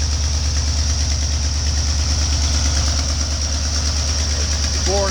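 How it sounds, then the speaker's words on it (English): A snow-packed Ford F-250 pickup's engine idles steadily as it warms up on a cold morning, a continuous low rumble with a faint high whine above it, close and constant throughout. "Motor's starting to warm up."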